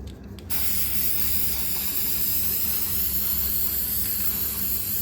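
A spray paint can hisses in one long, continuous burst onto scrap wood after a brief pause, close and steady.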